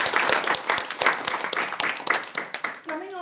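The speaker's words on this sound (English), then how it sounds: "So give him a round of applause." Audience applause at a joint Toastmasters club meeting in Dubai, a dense burst of clapping from a room of people filling the clip, with a voice starting to speak near the end.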